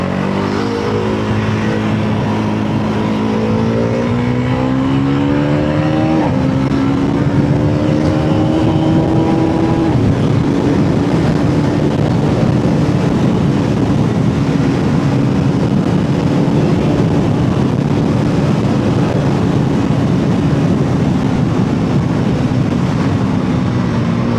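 Bajaj Pulsar NS400 motorcycle ridden hard at night, engine climbing through revs with rising pitch and gear shifts, then holding a loud, steady full-throttle roar with heavy wind rush, close and continuous.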